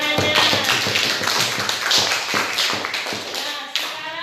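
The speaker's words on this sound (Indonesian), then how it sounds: "Beri tepuk tangannya" A classroom of students applauds a group's successful experiment, a dense, close burst of many hands clapping with a few voices mixed in throughout.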